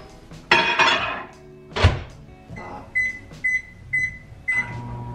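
A home microwave oven gets a couple of sharp thunks and clatter from its door and dish, followed by a row of evenly spaced electronic beeps, close and clear in a quiet kitchen.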